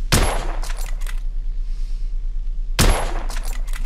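Two bursts of rapid gunfire in the video game The Order: 1886, each a loud clattering volley with sharp cracks, separated by a quieter stretch of low rumble.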